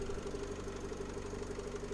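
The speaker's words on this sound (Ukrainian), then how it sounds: "тут чути, як автомобіль працює. Робота мотора просто відмінна." The 2.0-litre diesel engine of a 2013 Opel Vivaro van idles steadily with a low, even knocking rumble, close by and constant, with no voices.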